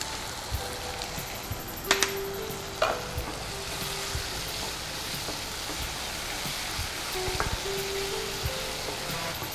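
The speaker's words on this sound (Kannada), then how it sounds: "ಸ್ವಲ್ಪ ಫ್ರೈ ಆಗಲಿ" Paneer chilli frying in a pan with soy sauce and tomato sauce, a constant crackling sizzle broken by a few sharp clinks of a spoon against the pan, with no talk.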